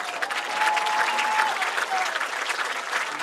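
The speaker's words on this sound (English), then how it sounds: "Please give Mackenzie, Raja, and Gia a round of applause for this incredibly great accomplishment." An audience at a school award ceremony applauds steadily, a dense, even wash of clapping from many hands that holds for a few seconds.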